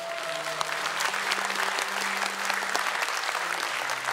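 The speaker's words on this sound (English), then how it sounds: "please put your hands together for Not So Serious" Audience at an esports tournament for World of Tanks clapping in sustained, dense applause, a steady roar of many hands filling a large hall, with faint voices underneath.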